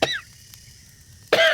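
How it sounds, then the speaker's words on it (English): A man's harsh, hacking cough by a campfire at night, one loud burst at the start and another at the end, with a quiet low hum between them. "A harsh cough, not polite. The kind that pulls your lungs inside out."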